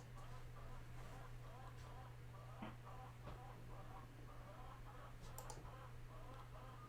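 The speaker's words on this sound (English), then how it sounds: "The chickens. One of them's clucking." A hen clucks faintly in the distance, soft intermittent calls under a constant low electrical hum with occasional clicks and a voice in the room.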